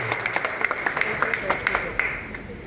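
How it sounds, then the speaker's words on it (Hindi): Audience applause welcoming a doctor at a camp gathering in Nokha, a moderate, steady patter of clapping from a crowd, somewhat distant, with louder individual claps standing out and a voice beneath. "आदरणीय डॉक्टर साहब का जोरदार तालियों से स्वागत और अभिनंदन।"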